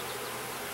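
Honey bees buzz steadily in an opened nuc hive during an inspection, a dense, even hum close by with no talk.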